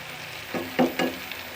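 Powdered spices are stirred into potatoes and eggs frying in a pan, giving a brief few scraping stirs over a soft, steady sizzle.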